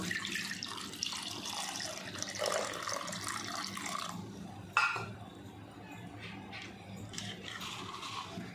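Cold water runs and splashes steadily into a container for bael fruit juice, with a brief clatter partway through and a quieter trickle afterward.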